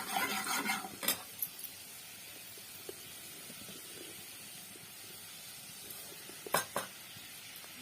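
Onion, garlic, cumin and fenugreek seeds in spiced oil on a chulha, a soft steady sizzle with a few clinks of a utensil against the pan near the start and end.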